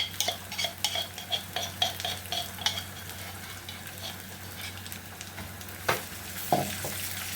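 Dakka spice mix stirred into a pot for taro, a soft frying sizzle under repeated spoon scrapes and taps against the metal, with a few sharper knocks near the end and no talking.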